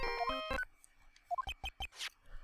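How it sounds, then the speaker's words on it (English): A cell phone in Ace Attorney: Justice for All rings with the Steel Samurai theme as its ringtone, a short sequence of bright electronic beeping notes in a melodic pattern, fairly quiet. "I don't like the sound of this ringtone right now."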